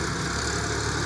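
Mahindra 265 DI Power Plus tractor with power steering idling, a steady continuous engine hum with low rumble, alone and fairly close.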